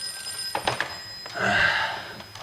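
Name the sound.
telephone ringing in a film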